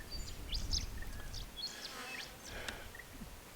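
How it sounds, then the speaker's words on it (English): Small birds chirp and tweet in short, scattered calls around a rural off-grid property on a cloudy, overcast day, the calls fairly faint over a low outdoor background hum. "Birds are chirping."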